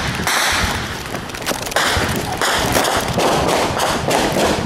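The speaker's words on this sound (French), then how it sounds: "Il s'en est alors suivi des échanges nourris de tirs." A gunfire exchange between armed forces and gangs, a dense, continuous crackle of sharp shots and pops overlapping without pause, loud and sustained with no voices heard.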